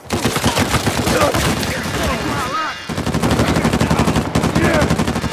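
Rapid automatic gunfire from an Uncharted 4 team deathmatch, dense rattling bursts close and loud, briefly dropping away mid-clip before resuming at full intensity, with game effects mixed in and no talk.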